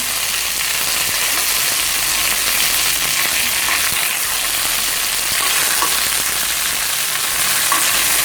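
Green chillies and curry leaves sizzle in hot oil for a Kerala raw papaya curry tempering, a loud, steady crackling hiss without pause and with no talking.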